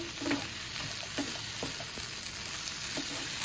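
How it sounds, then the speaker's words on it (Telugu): Spiced potato filling for vada pav is stirred in a hot pan, giving a continuous close sizzle broken by a few soft spoon scrapes, with no talk. "బాగా అంతా మనము మిక్స్ చేసుకుంటూ కలుపుకోవాలి"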